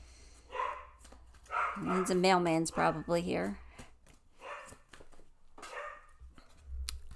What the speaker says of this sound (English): Oh, sorry about my puppies.